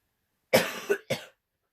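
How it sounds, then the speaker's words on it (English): A single close coughing fit: two quick harsh coughs followed by a third, then silence. "coughing into my brushes and into the camera"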